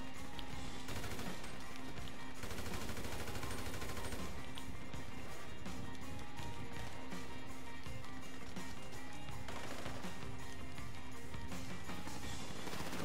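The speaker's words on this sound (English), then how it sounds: "Auto aim and shoot these motherfuckers in the head." Gunfire in Grand Theft Auto V, heard as dense, continuous bursts of shots and impacts over a loud, cluttered game soundscape, with no pauses for the whole stretch.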